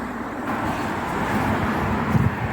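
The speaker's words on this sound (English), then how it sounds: "it's a bit noisy as well with the traffic" Road traffic droning below scaffolding on a cold, breezy day, a steady low rumble of passing vehicles with a brief louder swell near the end, no speech.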